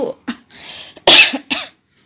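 A woman coughing in a string of harsh, close bursts, with one loud cough near the middle and quieter hacks around it, alone without speech.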